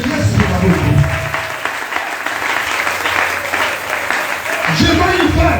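A church congregation claps and cheers for Jesus, with sustained loud applause and a voice speaking over it at the start and end.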